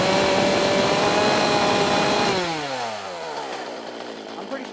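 A Poulan chainsaw with a $5 repair revving at high throttle, a loud buzzing whine that holds and then winds down as the engine drops back toward idle, close up.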